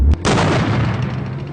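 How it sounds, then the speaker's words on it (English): Two sharp, loud gunshots in quick succession, followed by a heavy, sustained rumble that slowly fades. "Now those sound like gunshots."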